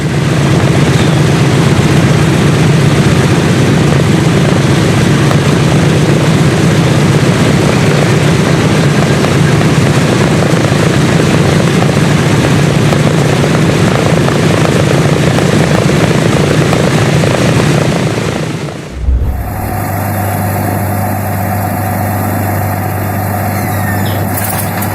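An Allison V-1710 World War II aircraft engine roars loud and steady at full power for about nineteen seconds, then abruptly cuts to a lower, smoother idle with a whining tone, close and without talking.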